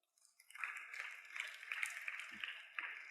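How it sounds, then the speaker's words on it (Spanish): A church congregation claps for the Lord, a faint, distant wash of steady applause that swells in after a moment of quiet and carries on evenly, with no one speaking over it. "Un aplauso al Señor."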